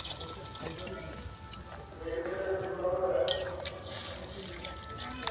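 Water poured into a pan of potato and aubergine curry with fried snails, a splashing, trickling pour that builds through the middle and is heard close and moderately loud, with a faint voice underneath.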